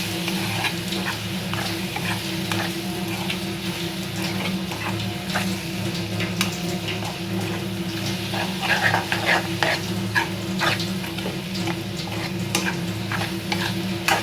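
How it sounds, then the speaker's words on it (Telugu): Mushroom pulusu, a spicy curry, simmers uncovered in a pan with a steady close sizzle and bubbling, scattered with faint clicks and ticks. "ఇప్పుడు నేను దీన్ని మూత అనేది తీసుకున్నానండి. చూడండి మంచిగా అనేది మగ్గుతుంది."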